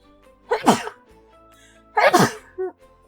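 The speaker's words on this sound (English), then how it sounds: "I sneezed." Two loud, close sneezes about a second and a half apart, each a sharp explosive burst, with a short breathy sound after the second one.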